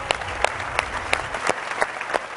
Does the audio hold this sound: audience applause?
yes